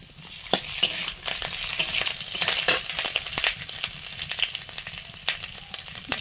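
Ginger paste frying in a pan for a squash curry, a busy crackling sizzle with sharp spatters and spatula scrapes, fairly close and continuous.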